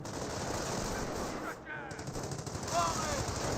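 Sustained machine gun fire in the World War II strategy game Company of Heroes, a continuous rattling burst that briefly dips and resumes, loud and dense against battle noise.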